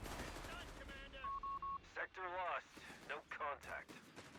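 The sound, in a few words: machine gun and mortar fire in Company of Heroes 3 video game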